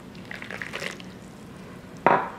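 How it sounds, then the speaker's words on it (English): Boiling water poured into a bowl of berry blue jello powder gives a brief, close liquid splash near the end, preceded by faint clinks and quiet room noise. "Add in 3/4 of a cup of boiling water."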